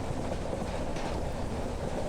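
Steady low rumble of a passenger train in motion, a continuous loud rolling drone with faint rattling throughout.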